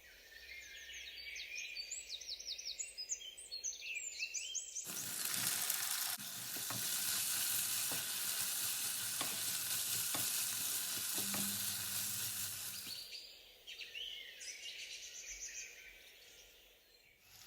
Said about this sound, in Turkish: Soğan diriliğini kaybedinceye kadar 2-3 dakika daha kavurmaya devam edelim.